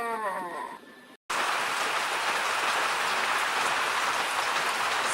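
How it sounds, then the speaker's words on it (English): Heavy rain pours loudly and steadily as a dense, even hiss that fills the scene after a brief opening of other sound and a short cut to silence. "I don't even know if you guys can hear me because the rain is so goddamn loud"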